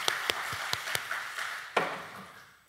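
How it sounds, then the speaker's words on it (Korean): A church congregation claps in thanks for the choir, producing a handful of sharp, sparse claps spaced apart in a large room that fade into quiet. "우리 임마누엘 찬양대의 귀한 찬양 다시 한번 감사의 박수 부탁드립니다"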